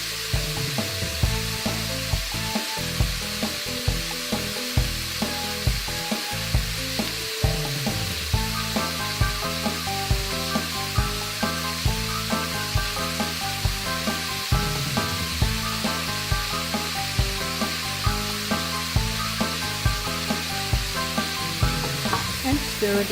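Split pea soup ingredients sizzle steadily in a cooking pot, a continuous frying hiss broken by repeated scraping and knocking as a spoon stirs them at close range.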